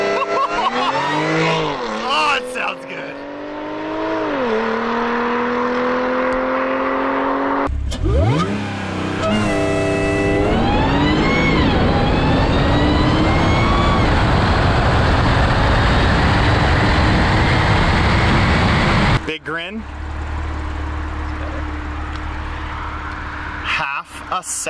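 A car running on pump gas blended with E85 ethanol accelerates hard. Its engine climbs in pitch through several gear shifts, loud and close, then drops to a lower rumble, with voices heard faintly at points.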